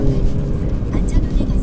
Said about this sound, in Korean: 스포츠 모드로 놓으면은 이제 뒤에서 팝콘 소리가 뻥뻥뻥뻥 나면서